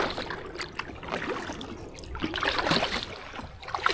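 Carbon fibre kayak paddle blades dip into river water during a leisurely paddle downriver, giving soft splashing and trickling strokes, close and fairly quiet.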